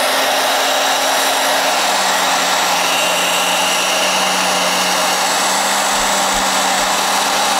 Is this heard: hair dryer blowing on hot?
yes